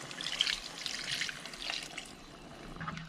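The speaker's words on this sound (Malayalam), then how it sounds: "ഞാൻ ചൂടുവെള്ളമാണ് ഒഴിക്കുന്നത്." Hot water poured into green coriander chicken masala for dum biryani, a continuous splashing trickle close by, tapering off toward the end.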